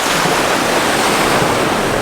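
Steady broadband roar of ocean surf washing onto a beach, continuous and fairly loud with wind noise buffeting the microphone throughout.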